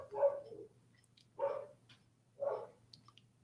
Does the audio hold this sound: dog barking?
yes